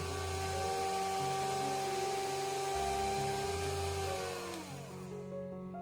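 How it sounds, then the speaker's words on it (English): Electric mixer whisking a cream cheese muffin filling mixture, giving a steady close motor whine with harmonic tones that slows and falls in pitch as it switches off near the end. "Whisk the mixture thoroughly until it becomes light, fluffy, and pale in color."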